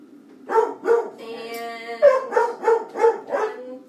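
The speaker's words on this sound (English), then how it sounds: "my dog is kind of barking" A dog barks in a home kitchen, with about six sharp, evenly spaced barks broken by a drawn-out whining howl in the middle, close and fairly loud.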